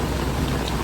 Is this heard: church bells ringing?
no